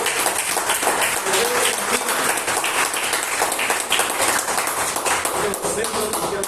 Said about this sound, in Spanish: ¿Por qué no le da un fuerte aplauso a Dios?